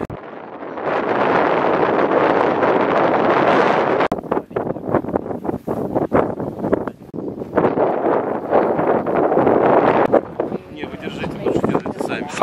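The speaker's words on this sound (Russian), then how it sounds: "К сожалению, сильный ветер и, наверное, помешает звуку" Strong mountain wind buffets the microphone in loud, roaring gusts with brief lulls, and a voice speaks amid the rumble.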